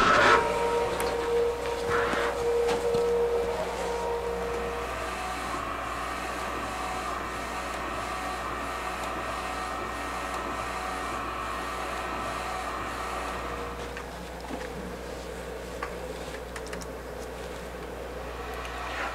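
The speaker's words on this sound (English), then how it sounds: "The machine will verify that you have a shirt in position and tell you to press the print button to start printing." An Epson F2000 direct-to-garment printer prints on a white shirt, giving a steady mechanical whir and hum with faint rhythmic ticking of the print head moving back and forth, continuous and fairly loud throughout.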